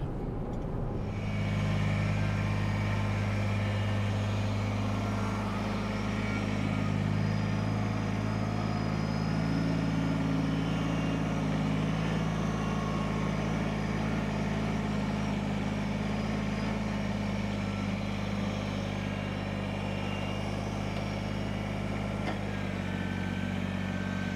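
A tractor engine runs steadily at a constant idle, a loud low drone that holds unchanged for the whole stretch with no voices over it.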